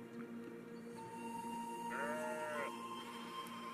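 A sheep bleats among farm livestock, a wavering mid-length call rising over a steady background hum of other animal noise, fairly close and moderately loud.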